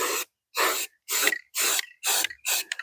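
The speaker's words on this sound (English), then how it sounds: "Now we'll spray it all till it's black." Spray paint hisses onto a limo in six short, separate bursts with brief silences between, close and loud with no talk.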